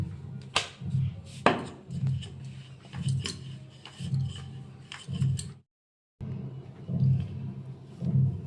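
A knife chops through thick Madan Katkati sweet dough on a board in a home kitchen, striking in a steady series of about eight sharp, close knocks roughly one per second, with a brief silent gap near the end.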